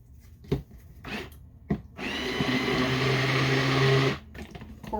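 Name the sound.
blender mixing kaolin clay into olive oil for soap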